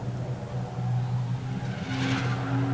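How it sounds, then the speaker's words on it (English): A Mustang race car runs down the back straightaway at Delaware Speedway in a King of the Hill event, a distant, steady engine drone with a rising whine toward the end, heard alone. "Down the back straightaway, the Mustang doing very well."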